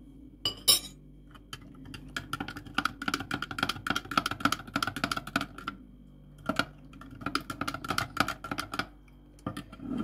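A metal spoon clinks repeatedly against a bowl while sugar and salt are stirred into a liquid for pie dough, a quick irregular run of bright taps close by, with brief pauses.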